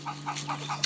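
Chickens cluck softly while scratching through a compost pile, a few short, close clucks in quick succession over a steady low hum.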